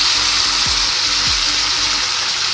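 Dried red chillies frying in oil in a pan: a steady, close hiss of sizzling, broken by a couple of faint low scraping stirs.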